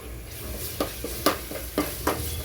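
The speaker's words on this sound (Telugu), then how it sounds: "పచ్చి వాసన పోయేదాకా కొద్దిగా ఫ్రై చేసుకుందామండి." Sliced onions with ginger garlic paste frying in a pan, a steady close sizzle broken by several scraping stirs, with no talking.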